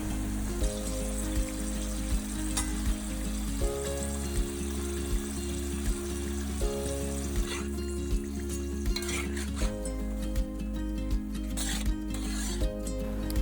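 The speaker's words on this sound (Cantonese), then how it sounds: "放入頭先切好咗嘅芋頭，炸到佢金黃色。" Cut taro pieces deep-frying in a wok of hot oil for a Chaozhou fish-head hotpot, a steady soft bubbling hiss running the whole time beneath louder background music.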